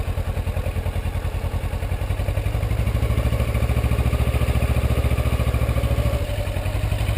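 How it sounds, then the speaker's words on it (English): Motorcycle engine pulling away slowly as the clutch is let out, a steady close rhythmic thumping putter that rises slightly and then eases, with no talking. "let out the clutch again slowly, and you'll start taking those baby steps and the bike will start moving"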